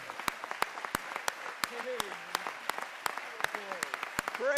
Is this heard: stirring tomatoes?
no